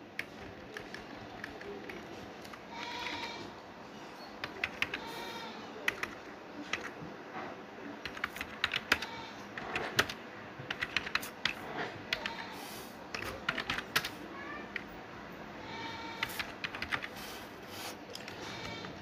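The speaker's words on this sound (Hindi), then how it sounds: "अगर आपको कुछ टाइप करना है तो आप टाइप भी कर सकते हैं।" Steady typing on a computer keyboard while writing in a Microsoft Word document, a continuous stream of close, crisp key clicks with occasional louder taps and no talking.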